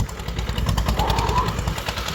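An old tractor engine sputters and coughs as it starts, rapid uneven knocking pulses, close and rough.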